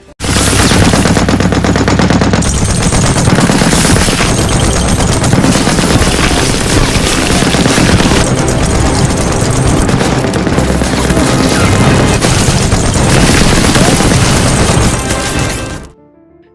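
Sustained, loud machine-gun fire as a war sound effect for a story of Soviet soldiers holding a trench against German troops and tanks, a dense unbroken rattle of rapid shots that cuts off abruptly near the end.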